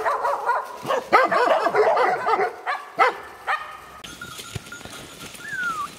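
Several Carpathian shepherd dogs bark in a rapid, overlapping flurry up close, then a few scattered barks trail off against a quieter outdoor forest background with a faint whistle.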